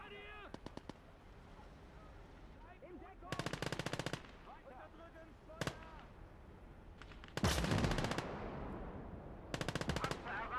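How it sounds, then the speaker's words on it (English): Rapid machine gun bursts fire in short repeated volleys in a Battle of the Bulge war video game, the crackling rounds cutting sharply over a steady battlefield background with a voice heard at times. "give MG supporting fire as these chappies move in"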